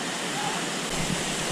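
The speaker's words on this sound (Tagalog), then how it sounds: "yun na pala ang mismong falls" Waterfall at Calejon Falls in Malvar, Batangas, a steady broadband rush of falling water that fills the whole clip, loud and continuous with no clear voices over it.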